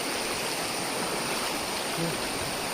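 Continuous rushing of the Kabbinale river water, a close, steady broadband flow with no pauses.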